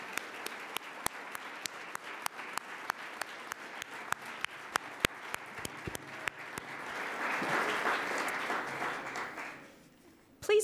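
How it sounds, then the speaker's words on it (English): A crowd applauds at a public forum at the Grange Audubon Center, a dense, steady wash of many hands clapping with sharp individual claps popping through, swelling louder near the end before fading. "Let's give them a round of applause"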